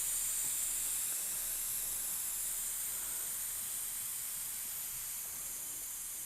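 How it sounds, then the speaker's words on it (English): Air escapes from an e-bike tire's Schrader valve in one continuous, close, steady hiss that fades only slightly over several seconds. "If you have a Schrader valve, this is really easy. Just grab whatever, and poke it in, let that air out."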